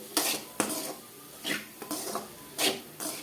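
A spoon stirs bitter gourd kootu with coconut in a metal pan, making about five distinct scraping clinks at uneven intervals, close and fairly loud, with no talking.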